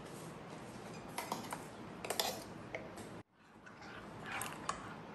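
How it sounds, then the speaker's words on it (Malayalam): A spoon clinks and scrapes against a bowl while mango pulp is mixed into a sweet mashura dessert. The strokes are light and scattered, close but faint, and there is a short silent gap partway through. "അത് നേരത്തെ നമുക്ക് അരച്ച് വെച്ചിരിക്കുന്ന മാംഗോ പൾപ്പ് അതിലോട്ട് മിക്സ് ചെയ്യാം."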